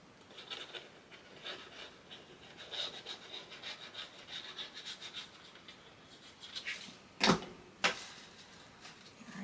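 Fingers burnish across a glued paper tab on a Christmas mini album, a soft continuous rubbing and scratching close by, with a couple of sharper brushing strokes near the end and no speech.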